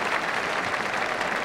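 Warm applause from a football crowd at a 1997 preseason trial match between the Adelaide Crows and Essendon Bombers as a limping player comes on, a steady wash of distant clapping throughout.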